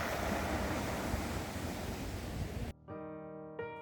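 Surf washing over a black sand beach at Porto da Cruz, Madeira, a dense continuous wash of waves with wind, cutting abruptly after a few seconds to a quieter tonal background.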